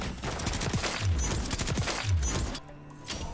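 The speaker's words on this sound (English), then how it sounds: "The soothing sound and the rhythmic shooting of the LMG" Rapid, rhythmic bursts of light machine gun fire in Modern Warfare 3, loud and continuous for about two and a half seconds before cutting off into quieter game ambience.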